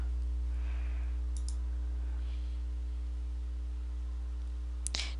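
Two quick pairs of computer mouse clicks near the start, then a sharper click near the end, set over a steady electrical hum while a check is selected in QuickBooks accounting software.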